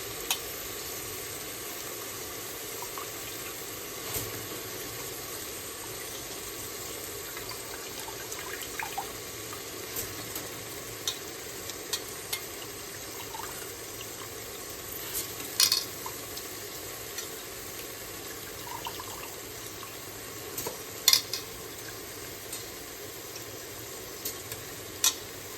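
Rice being cooked in a pot with fresh field beans, a long even sizzle and hiss with scattered clinks and scrapes from occasional stirring.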